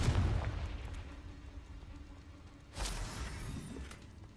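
A fire spell blast in the video game Hogwarts Legacy bursts out partway through, a sudden broadband boom over a low rumbling cave ambience, preceded by a dull rumbling onset.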